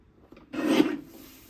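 A paper trimmer slices a strip of paper for a scrapbook page kit, giving one short rasping slide up close, with quiet around it.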